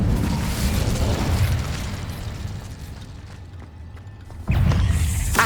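A fire spell blast in Hogwarts Legacy rumbles loudly with crackling bursts, fading over a few seconds before a second sharp whooshing burst erupts near the end.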